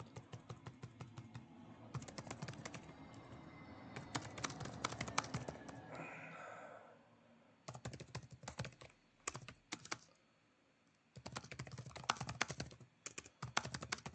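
Typing on a computer keyboard during a game-design stream, fast bursts of close, clicky keystrokes separated by brief pauses, fairly quiet and without talking.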